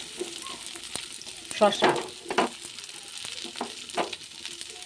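Mixed vegetables for shukto, including sweet potato, drumstick and beans, frying and being stirred in a pan, with a steady soft sizzle and a few louder scraping bursts, under a brief spoken word.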